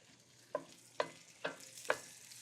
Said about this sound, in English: I hear the sausage starting to sizzle a little bit.